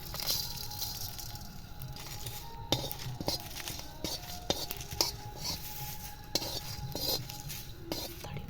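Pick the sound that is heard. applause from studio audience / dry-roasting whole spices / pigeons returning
dry-roasting whole spices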